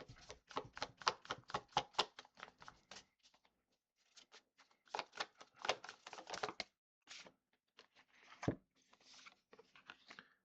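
Tarot cards being shuffled and drawn, rapid bursts of crisp card flicks and riffles in quick runs, separated by a brief pause, close and fairly quiet, ending with a few sharper taps and slaps.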